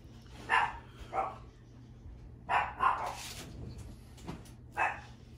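A dog barks in a quiet indoor room during an unboxing of a book edition, several short barks spaced irregularly at moderate distance, with a faint steady hum underneath and no talking.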